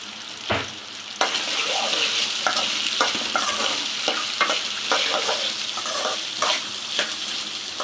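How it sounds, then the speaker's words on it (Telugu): Okra (bhindi) frying in a pan: a steady, close sizzle runs throughout, broken by repeated scraping stirs and a few sharper clatters, with no talking. "ముందు బెండకాయని ఫ్రై చేసుకోవాలండి."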